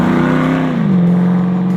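A GM 6.2-liter LS3 crate V8 in a 1968 Chevrolet Camaro RS/SS pro-touring restomod runs with a loud, steady low rumble, its pitch dipping slightly partway through as the revs settle.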